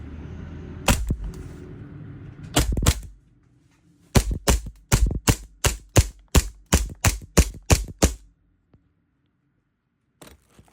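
A black WE TRX Hi-Capa 5.1 airsoft pistol is test-fired in a string of sharp, close, snapping shots. A few isolated pops come first, then a rapid, regular burst of about a dozen, then silence with one faint tick.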